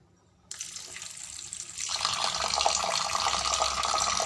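Tap water runs steadily into a sink while fish pieces are washed by hand, starting after a brief silence and growing louder and fuller partway through, with no talking.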